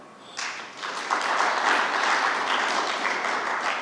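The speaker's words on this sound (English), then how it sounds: "I think you should clap for them." An audience claps after a speech praising Ethiopian Airlines, the applause swelling quickly from a few hands into a dense, sustained round that fills the room, with no voices over it.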